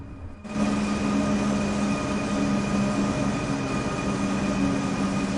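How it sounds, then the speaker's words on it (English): A freight train rolls past in the Train Sim World 5 game, a sustained loud rumble and rail roar with a steady tonal hum that sets in abruptly and continues without talk. "And a freight train in there as well."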